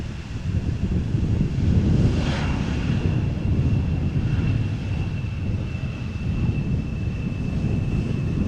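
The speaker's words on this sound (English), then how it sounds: "Embraer KLM arriving from Norwich" A KLM Embraer 175 arriving at Amsterdam Schiphol, heard as a steady broad engine roar with a faint high whine, mixed with wind noise, continuous and moderately loud.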